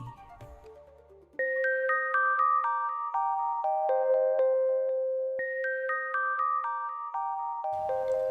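A bright electronic chime plays a descending melodic phrase, then repeats it, sounding clean and loud on its own as a notification bell sound effect.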